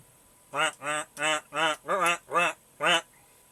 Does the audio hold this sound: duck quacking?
yes